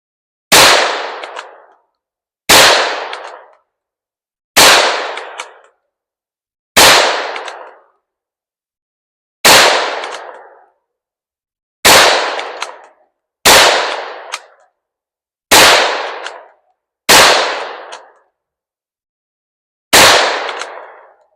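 Ten sharp, loud rifle shots from a Ruger Precision Rimfire 17 HMR hitting fruit such as watermelon, evenly spaced about two seconds apart, each a crisp crack with a short decaying tail, no talking.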